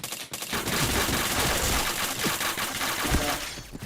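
Rapid gunfire bursts in the shooter game Point Blank, dense and loud throughout with overlapping shots and crackling impacts, no voices.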